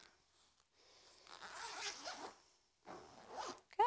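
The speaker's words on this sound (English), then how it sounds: "So he starts to enjoy the noise of the zipper." Zipper of a small dog's travel carrier pulled in two quick close strokes separated by a short pause, each a rasping zip, with a sharper click at the end.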